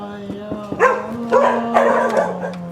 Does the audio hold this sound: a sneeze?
no